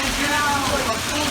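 Hail pours down during a severe thunderstorm, a dense, loud, continuous hiss of pellets striking surfaces up close.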